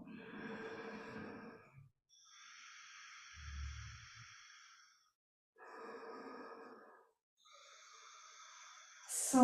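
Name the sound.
breathing in and out during meditation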